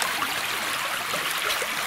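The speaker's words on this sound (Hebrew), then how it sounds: "מים זורמים" Stream water flowing steadily in Nahal Arbel, a continuous close, even rush of water with no voices heard over it.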